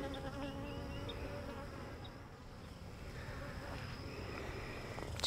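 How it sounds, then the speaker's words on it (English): Honey bees buzz around a queen being marked, a faint continuous droning hum of several insects close by, with no talking. "Looks like we got another bee in there with her."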